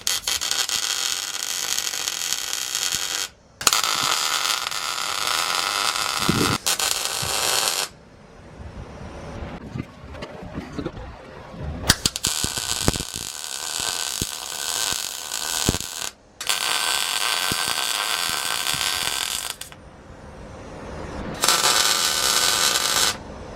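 Welding tacks on a motor plate bracket for an LS-swapped Chevrolet Colorado, heard as several bursts of harsh, steady electric crackle, each lasting a few seconds, separated by quieter gaps with small clanks and handling noises.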